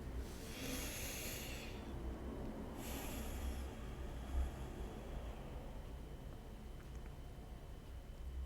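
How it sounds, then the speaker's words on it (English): Slow, deep breaths during a guided meditation, two long airy inhales or exhales early on, then quiet hushed room tone with faint soft breathing. "Go ahead and breathe into this moment."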